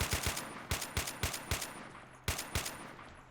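Bursts of automatic gunfire from Men of War: Assault Squad, fitted with Battlefield-style weapon sounds, crack in quick rhythmic volleys, a run of sharp shots, a pause, then another short burst, fairly distant and fading off.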